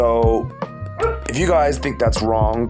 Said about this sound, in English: please excuse my dog in the background